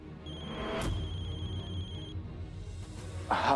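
A phone rings with a steady electronic tone, loud and close, in a quiet indoor scene from a Marathi TV drama, followed by a brief clatter.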